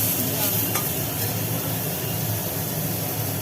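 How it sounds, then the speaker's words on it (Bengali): Boiled papaya pieces stirred in a little hot oil, giving a steady, close sizzle with scraping stir sounds that hold evenly throughout, with no voices. "হালকা তেলে একটু নাড়িয়ে নেওয়া হলো"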